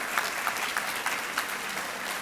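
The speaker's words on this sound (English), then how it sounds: "I'd like to ask these individuals to please stand up briefly to take that nice round of applause" A crowd at an awards celebration claps steadily for Barton Malow sponsors asked to stand, a moderately distant, even patter of many hands with a few sharper claps standing out.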